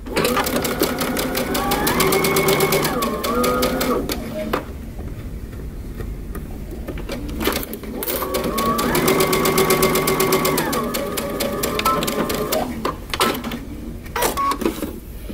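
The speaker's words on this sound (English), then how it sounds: "we're going to stitch across our shoulders using 5/8 of an inch seam allowance" A sewing machine stitches shoulder seams on a tee shirt at a 5/8 inch seam allowance, running in two long steady bursts with a pause between, close and loud, with light clicks and handling noises in the gaps.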